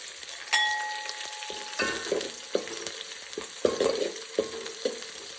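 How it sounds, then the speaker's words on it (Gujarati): Curry leaves crackling and sizzling in hot oil in a pan for khichdi, with a sharp burst as they hit the oil, then repeated sizzling pops and stirring scrapes, close and clear with no talk. "હવે થોડા આપણે અંદર લીમડાના પત્તા એડ કરીશું."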